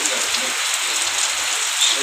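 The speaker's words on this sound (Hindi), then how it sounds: "और इन्नी बारिश होने लग गई" Heavy rain pours steadily onto surfaces outdoors, a loud, continuous hiss of dense drops with no pauses and no voices.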